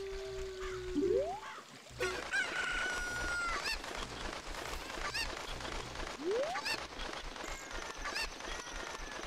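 A chicken clucks and squawks in the video game Zelda: Ocarina of Time, the sharp bird calls recurring over a steady busy game soundscape with occasional rising whistle-like tones.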